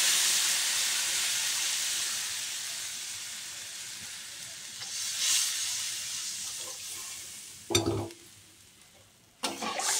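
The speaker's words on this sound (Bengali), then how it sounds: "আলুটাকে ভাজা হয়ে গেছে, পরিমাণ মতো জল দিয়ে দেব" Fried potatoes crackle and hiss in a pan as water goes in, a steady steamy sizzle fading slowly, broken by two sharp bursts of clatter near the end.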